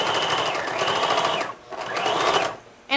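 A sewing machine joins quilt rows together in two close, loud, steady runs separated by a brief pause, then starts up again at the end.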